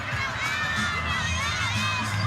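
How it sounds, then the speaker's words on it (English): A crowd and a coach cheering on a gymnast at a college meet with Ball State and GW, dense high-pitched shouting and whooping voices filling the space continuously. "Here is Ella Warren with head coach Garrison cheering her on right beside her to the left"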